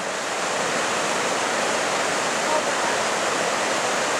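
Rushing water pouring over a dam as the water level rises, a loud, steady, broad roar of churning water filling the whole clip without pause.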